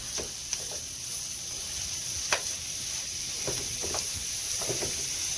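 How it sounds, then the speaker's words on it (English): A pound of ground beef sautéing in a pan, a soft steady sizzle broken by scattered scraping taps of a utensil breaking up and stirring the meat. "Now I'm adding in my pound of ground beef, like so. We're going to saute that together."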